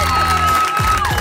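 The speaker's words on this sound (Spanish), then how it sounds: "Un aplauso para Ricardo Osorio" Studio audience on the Exatlón EEUU sports competition show applauding and cheering a former professional footballer guest, a loud brief burst of crowd noise and whoops.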